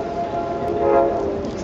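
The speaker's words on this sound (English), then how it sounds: "Got trains and machine guns going off here." Trains rumble in a steady, moderately loud wash of rail noise with a faint tonal horn-like hum, heard alone in a live concert setting.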